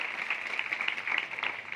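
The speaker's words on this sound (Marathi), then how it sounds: "हिच्यासाठी टाळ्या वाजवा." A school audience at a secondary-school awareness campaign against child marriage applauds a student, a fairly faint, diffuse patter of many hands clapping together.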